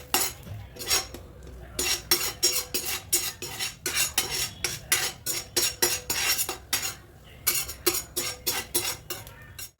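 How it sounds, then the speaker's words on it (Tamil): Cashews roasting in a pan for pineapple kesari, stirred with a metal spoon that scrapes and clinks against the pan in quick, rhythmic strokes throughout, close and fairly loud, with no talking. "முந்திரி வந்து ப்ரௌன் ஆற வரைக்கும் நம்ம வறுக்கணும்"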